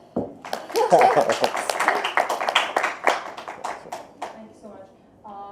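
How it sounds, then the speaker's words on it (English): Audience applause at a fashion show at Lakme Fashion Week, a burst of clapping that builds then thins into scattered individual claps, with a voice speaking over part of it. "he deserves a huge round of applause"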